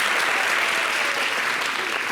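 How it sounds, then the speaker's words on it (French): Audience at a televised summer holiday show clapping steadily in dense, even applause, loud and close, with no voices over it. "Applaudissez-les, s'il vous plaît."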